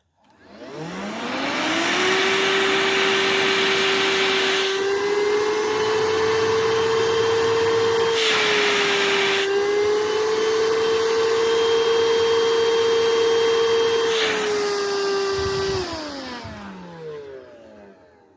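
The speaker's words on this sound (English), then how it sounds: "Now for a suction test." A VacLife VL726 cordless handheld pet hair vacuum whines up to speed, then drones loud and steady at close range with a high motor pitch before winding down and falling silent.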